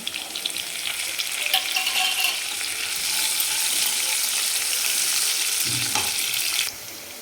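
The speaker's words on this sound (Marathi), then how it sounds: "तर हे आपण थोडासा कांदा तळून घेणार आहे" Onion with curry leaves frying in oil, a steady close sizzle throughout with a few soft stirring clinks, easing off near the end; no talking.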